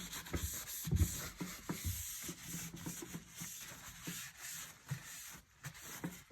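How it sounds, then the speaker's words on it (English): A dry napkin rubs alcohol off a 3D printer, giving soft, irregular scuffing and wiping strokes, close and fairly quiet, with no talk. "now I'm just taking that dry napkin and just wiping off the alcohol"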